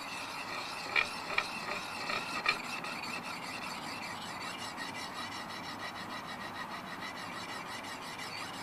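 An axe edge rubbed on a black Arkansas stone at a Nordic building site, a continuous close scraping rasp with a few louder strokes early on and no voices.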